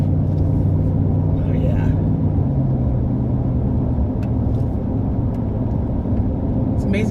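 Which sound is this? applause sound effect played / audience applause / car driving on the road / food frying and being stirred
car driving on the road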